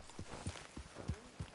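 Horse hooves clip-clopping at a steady walking pace in the Red Dead Redemption 2 video game, five dull thuds spaced roughly evenly, close and moderately soft with no talking over them.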